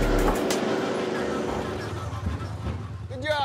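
A four-wheeler ATV engine runs with a low, steady rumble that grows slightly rougher toward the end, amid busy outdoor background noise.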